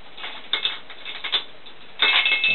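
Ratchet clicks in short bursts while tightening the cylinder head on a Honda CB400N motorcycle engine, close and fairly faint in a quiet workshop, with a denser run of clicking near the end.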